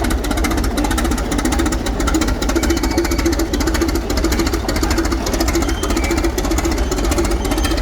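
A four-cylinder engine runs at a yard show, giving a loud, steady, rapid knocking throb that stays constant throughout with no talk over it.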